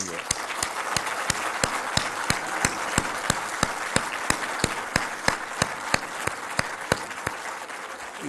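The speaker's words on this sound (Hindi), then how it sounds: "जोरदार ताली लगाएं इनके लिए" Loud applause at a Pakistani prime minister's national innovation event, with crowd clapping that falls into a steady rhythmic beat, sharp regular claps over a continuous wash.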